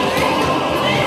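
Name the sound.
crowd shouting and cheering in Jerusalem streets (dramatized)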